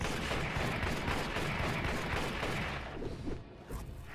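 Video game gunfire rattles in a dense, continuous barrage of rapid shots, loud and close, easing slightly near the end with no talking.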